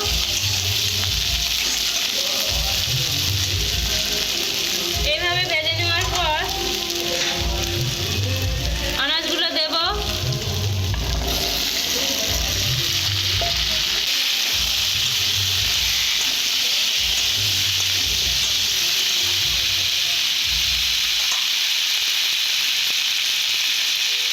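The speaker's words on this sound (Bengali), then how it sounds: "এভাবে ভেজে নেব অল্প পরিমাণে লবণ দেব পেঁয়াজটা চোয়ার জন্য" Onions frying with a little salt for a khoira fish dish, a steady loud sizzle throughout with occasional stirring and a brief faint voice partway through.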